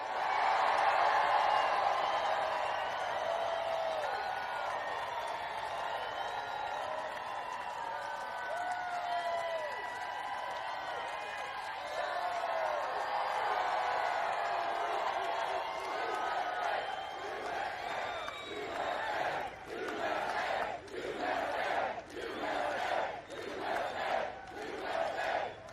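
A large crowd at a Trump rally in Winston-Salem cheers and shouts in a long, sustained roar. Toward the end it breaks into rhythmic chanting pulses, and the sound carries the echo of a big open venue.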